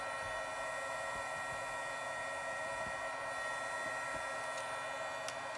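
A Wagner heat gun warms up with a constant, loud blowing whir and airy hiss, running steadily and close throughout, with a few faint clicks and knocks from the work table.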